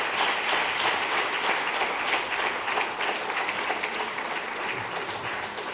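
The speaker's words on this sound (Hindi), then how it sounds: "बड़ी जोर से तालियां बजा के स्वागत करेंगे हम परमेश्वर" A large audience at a Hindi gospel film release event applauds loudly to welcome Bishop Augustine onto the stage, with dense, steady clapping that holds throughout and eases only slightly toward the end.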